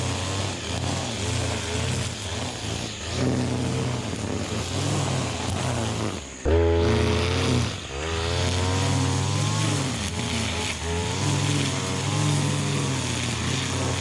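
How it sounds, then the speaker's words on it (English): A Stihl KM94 line trimmer runs steadily with a loud, buzzing two-stroke drone that wavers in pitch, briefly cutting out partway before revving back up and holding strong to the end. "These are just awesome trimmers, very lightweight, very versatile, heaps of power."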